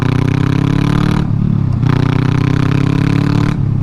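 Honda Rebel 500 motorcycle with its muffler removed, revving hard and close up in a loud, continuous raw engine roar with brief dips between throttle blips; no voices.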